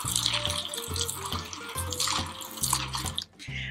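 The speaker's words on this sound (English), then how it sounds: "It's actually a very powerful stirrer." A powerful electric stirrer churns and splashes liquid in a steady, close, wet sloshing wash, with a brief dip near the end and no talk.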